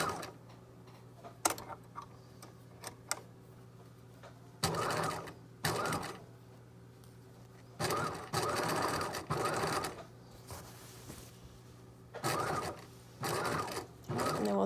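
A sewing machine stitches the side seam of a yoke skirt in several short, rapid bursts of mechanical chatter separated by quiet pauses, heard close and alone.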